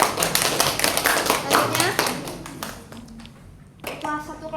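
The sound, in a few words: class clapping hands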